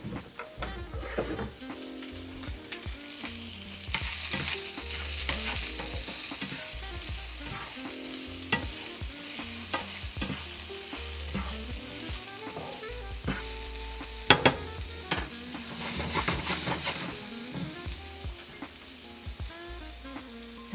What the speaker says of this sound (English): Let's get this lovely onion into this hot skillet. You hear that sizzle?